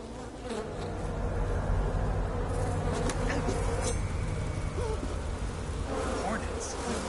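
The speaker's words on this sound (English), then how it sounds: "Hornets." Hornets buzzing loudly and continuously in a video game, a dense droning hum close by that persists throughout with faint game sounds underneath.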